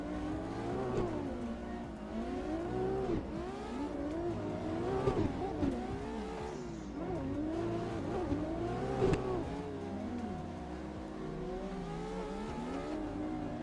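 Several drift cars in the Drift Masters racing game drone together as their engines rise and fall in overlapping revs, a constant buzzing swarm of whining tones with no letup.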